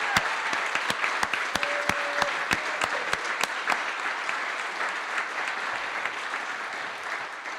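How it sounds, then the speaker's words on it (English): Steady applause from a gala audience at a black-tie chamber of commerce event, honoring sponsors; sharp individual claps ring out over a dense, even wash of clapping that continues throughout. "Let's give them a round of applause"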